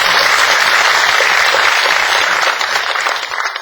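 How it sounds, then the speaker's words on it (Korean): An audience at a book concert breaks into loud, dense applause that holds steady for a few seconds before easing slightly. "박수 한번 칠까요?"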